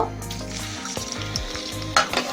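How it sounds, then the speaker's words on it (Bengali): Half a cup of chopped onions sizzle steadily in hot oil for a Bengali fish curry, with a few soft stirring knocks and a sharper clatter near the end. "তেলটা মোটামুটি এখানে গরম হয়ে গিয়েছে এখানে আমি হাফ কাপ পেঁয়াজ কুচি করে রেখেছি সেটা দিয়ে দেব"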